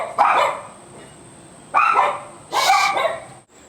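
Small pet dachshunds bark in three bursts of sharp, yappy barks, loud and close. No voices are heard.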